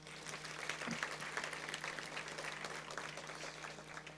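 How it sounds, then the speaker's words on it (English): A brunch audience applauds steadily at moderate distance, the clapping dense and even throughout with a low steady hum underneath. "let's give him a round of applause"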